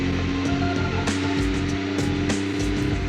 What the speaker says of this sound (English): Sounds like a diesel engine.